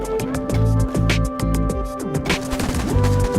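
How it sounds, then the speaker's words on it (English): Rocket launchers firing in the Rust video game, a steady rhythm of repeated sharp blasts and bangs layered over continuous battle noise and droning tones, loud and close throughout. "They're using rockets with wild abandon now. They're firing them off."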